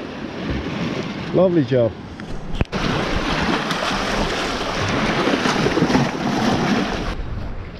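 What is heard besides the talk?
waves breaking in the shallows on Herm Island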